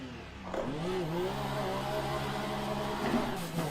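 Car engine in a racing sim driven with a Thrustmaster TH8A shifter with 3DRAP v3 mod, revving and shifting pitch steadily at moderate level throughout, with no talk over it.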